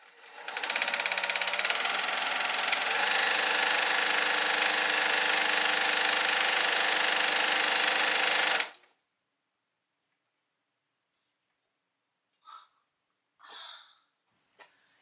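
A Brother PQ1600S semi-industrial sewing machine runs at high speed for about eight seconds in a loud, steady, dense whir, then stops abruptly, leaving silence broken by two brief faint rustles.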